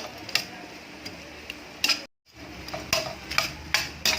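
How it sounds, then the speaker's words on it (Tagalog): Shrimp fried in butter are stirred in a pan, with a steady soft sizzle broken by sharp utensil scrapes and ticks against the metal, plus a brief silent gap partway through. "Halo-haloin lang natin mga kalakay para pumantay yung kanyang pagkakaluto."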